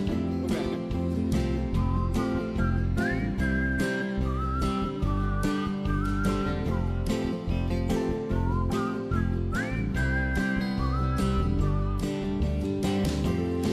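Someone whistles a melody along with a sustained hymn accompaniment at a church service in Dokkum, the whistled line rising and falling over the full, steady music.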